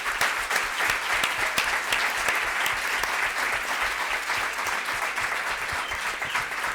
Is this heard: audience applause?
yes